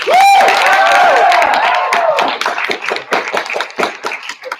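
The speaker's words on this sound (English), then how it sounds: "and a big round of applause for your new captain." A crowd at a high school speech team recognition night claps for a new captain; a bright tonal whoop or cheer opens it, then clapping continues and thins toward the end into scattered, separate claps.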